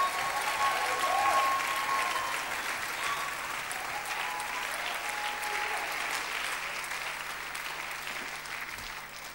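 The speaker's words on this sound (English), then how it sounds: "Easter hand clap." Church conference congregation clapping hands for an Easter hand clap, a sustained dense applause from a large crowd that swells early and then gradually tapers off.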